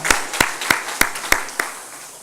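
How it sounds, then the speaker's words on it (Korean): A church congregation applauding its teachers during a sermon, heard as about six sharp, separate claps at a slow, even rhythm, fairly close and loud against a quiet room. "뜨거운 박수로 이 시간에 우리 영광을 돌리도록"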